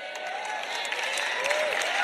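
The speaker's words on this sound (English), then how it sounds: "That's all the tithers that are clapping" A church congregation applauds in a steady, full wash of clapping, with crowd noise underneath throughout.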